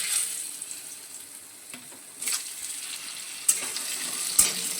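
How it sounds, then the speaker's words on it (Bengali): Cut potatoes fry in hot oil with asafoetida, giving a soft, steady sizzle. A few sharper stirring scrapes and clicks sound up close. "আলুটা এবার হালকা লাল করে ভেজে নেব।"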